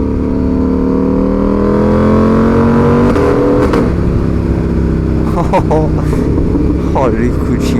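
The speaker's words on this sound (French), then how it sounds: "Le bruit de cette moto, c'est une singerie." A racing motorcycle engine at the Le Mans Grand Prix revs loudly and close, its pitch climbing in a long sweep, then dropping through sharp quickshifter gear changes as it passes, with talk over it.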